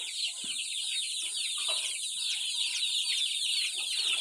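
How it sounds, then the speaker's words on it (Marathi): A group of chickens clucking and chattering continuously nearby, with soft scattered noises underneath. "तर हे हिचं कुक्कुटपालन."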